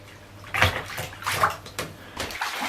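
A toddler splashes water in a bathtub, several uneven bursts of sloshing and slapping water close by, with short quiet gaps between them.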